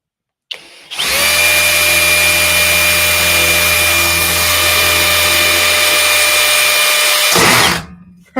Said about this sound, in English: it's so weird drilling through metal at high speed.